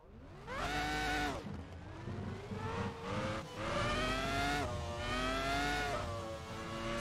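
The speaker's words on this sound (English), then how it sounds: "So we're in Michael Schumacher's hashtag keep fighting for Michael 2002 Ferrari F1 car" High-pitched V10 scream from Michael Schumacher's 2002 Ferrari F1 car in Assetto Corsa, revving up through the gears in repeated rising sweeps with quick drops at each shift, loud and close.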